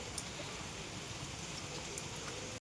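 Rain falls steadily as a dense, even hiss from start to finish, with occasional faint drips, then cuts off abruptly.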